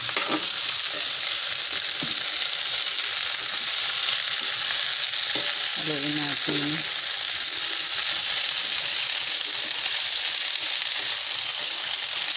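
String beans and tofu for adobong sitaw sizzle steadily in a hot pan, with occasional stirring scrapes and a brief utensil clink partway through, the frying loud and constant throughout.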